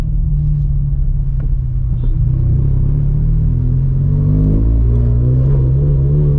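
A 400hp turbocharged Scion FR-S exhaust drones with a deep, loud, steady rumble, its pitch slowly rising as it accelerates.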